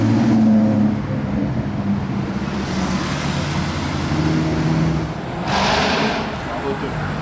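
A loud sports car engine roars past in Monaco, a deep rumbling drone that holds steady for several seconds with a brighter surge near the end, while people talk over it.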